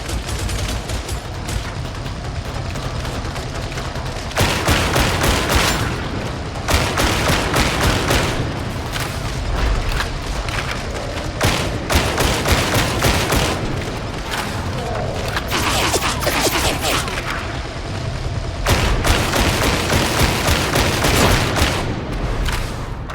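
Sustained bursts of enemy ranged gunfire and booming impacts from the Warhammer 40000 Darktide video game, loud and continuous with intensifying volleys, with occasional voice blended into the battle noise.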